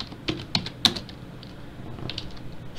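Several sharp clicks of keys on a computer keyboard as a command is typed into a Garry's Mod console, a few distinct taps early on, then softer scattered keystrokes over a low room hum.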